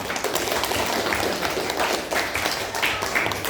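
A class of students claps their hands together in a classroom, a short burst of fairly close, busy clapping with some voices mixed in.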